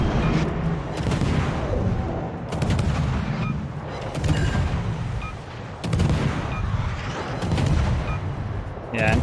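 Secondary guns of the cruiser Kronstadt fire in a World of Warships naval battle, a dense run of booming shots and rumbling blasts that rolls on through the whole stretch with no pause.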